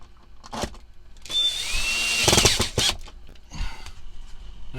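A power drill drives small screws into a Sirocco fan mount inside a caravan, whirring in short close bursts, one longer and louder run in the middle, separated by brief quiet gaps.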